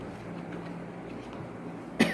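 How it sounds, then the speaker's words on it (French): A single short cough bursts out near the end after a stretch of quiet room tone. "C'est ça qui me fait tousser."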